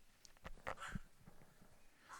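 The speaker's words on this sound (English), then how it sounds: "my dog in the background" A dog whimpers and huffs excitedly in the background at home, a few faint short whines and breathy yelps scattered alone over quiet room tone.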